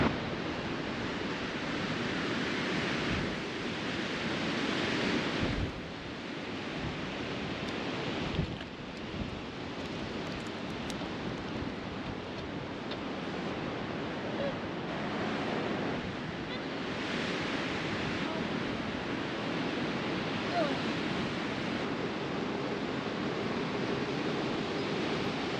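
Strong wind gusts of up to 60 miles an hour blowing outdoors on a road trip with a truck camper, a loud roaring rush that buffets and surges unevenly, swelling and easing throughout.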